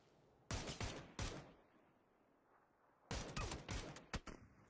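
Video game gunfire crackles in two separate bursts of rapid sharp shots, fairly loud and close, with a quiet gap between them and no talk over them.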